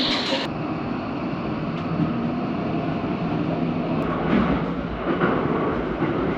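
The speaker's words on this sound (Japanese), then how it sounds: "ちょうど右手に中目黒行きの電車が止まっていますので、こちらに乗車したいと思います。" Tokyo Metro Hibiya Line train bound for Naka-Meguro, a continuous rumbling roar of the train with a sharp click near the start and brief knocks later, steady and fairly loud.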